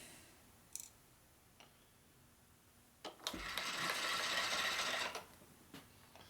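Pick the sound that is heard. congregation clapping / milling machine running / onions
milling machine running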